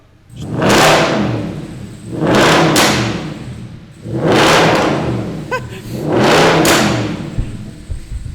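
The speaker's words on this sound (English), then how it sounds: "I can get another rev, Connor." An Audi S5 with a loud exhaust revs four times in steady bursts, each rising to a full, close roar and then falling back to idle.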